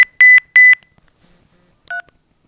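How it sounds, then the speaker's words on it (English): An LG enV2 9100 Verizon phone plays its low beeps ringtone: two short matching electronic beeps in quick succession, then a pause and a brief higher double-toned blip, crisp and close in a quiet room. "Low beeps."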